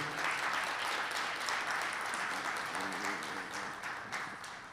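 Steady crowd applause at a closing cocktail event with symbolic cheque presentations, dense clapping throughout, fairly distant and slowly fading toward the end.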